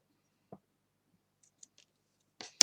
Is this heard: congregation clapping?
no